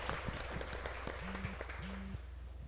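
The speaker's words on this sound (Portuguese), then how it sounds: "Uma salva de palmas novamente para o nosso Padre Sérgio." A church congregation at a novena gives a round of applause for a priest. The clapping is faint and sounds distant, with a low hum and brief tones in the background.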